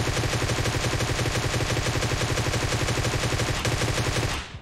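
An AK rifle in a video game fires nonstop in rapid, evenly spaced automatic bursts, loud and close, for several seconds before the shots stop and the sound fades out.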